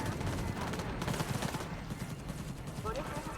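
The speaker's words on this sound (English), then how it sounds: "Ladies, don't mind the men trying to shoot me." Enemy gunfire in the Cyberpunk video game, rapid bursts of shots crackling under game noise, fairly faint and distant, with a voice talking over part of it.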